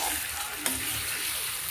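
Fried masala for fish curry being stirred in a pan, a soft continuous sizzle with one brief clink of a spoon against the pan, close and quiet, no talk.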